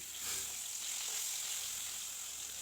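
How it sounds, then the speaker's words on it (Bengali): Tangra fish rubbed with salt and turmeric fries in mustard oil, giving a soft, steady sizzle that stays faint and even throughout, with no voices. "মাছটা নুন হলুদ মাখিয়ে ভাজা করে নেব আর রান্নাটা আমি সরিষার তেলে করছি"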